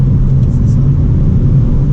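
Renault Twingo RS 1.6 133 engine running steadily, a close, constant low hum with a droning tone and no clear revving, filling the whole short stretch.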